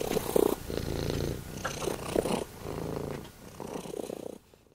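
A cat purrs loudly and close, in a steady rumbling rhythm of breaths that rise and fall before it trails off at the end.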